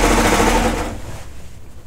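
Serger sewing machine stitching fabric, a loud rapid mechanical whirring burst that winds down and fades within two seconds, heard close and alone.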